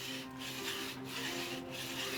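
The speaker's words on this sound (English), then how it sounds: "No chainsaws or power tools, just physical force and a handsaw." A handsaw cuts slowly through a block of inkstone by hand, each steady rasping stroke repeating in an even back-and-forth rhythm, close and alone.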